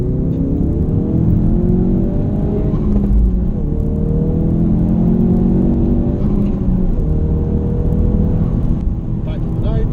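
A Ford Focus RS race car engine on a lap of Spa-Francorchamps, droning loudly and steadily with rising and falling pitch as it revs through the gears, with someone talking over it.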